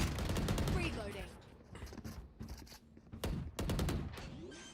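Gunfire in the shooter game Riftbound cracks in rapid bursts and single sharp shots, loud and close, mixed with game effects and someone talking over the action.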